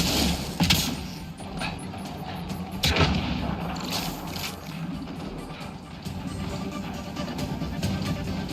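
Gunfire in the Mass Effect Andromeda video game, with loud shots cracking out at about 0.7 and 3 seconds over a dense, continuous rumble of battle noise, while faint speech sits underneath.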